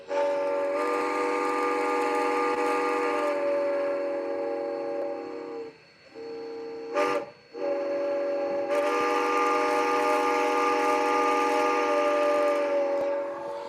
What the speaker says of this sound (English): This Bachmann steam locomotive surprisingly has like 20 to 30 different whistles